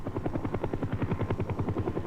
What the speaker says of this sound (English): Rapid deployment by helicopter reinforces strategic defense positions.